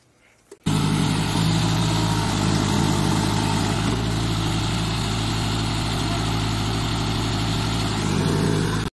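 Steady diesel-type engine idling close by, a loaded sand tractor stuck at an evening spot in the hills, running loud and continuous after a brief quiet start.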